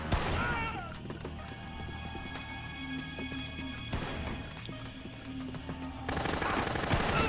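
Gunfire and chaotic action from the video game Dead Rising, with bursts of rapid shots and crashes over a busy game soundtrack, while a voice talks over it.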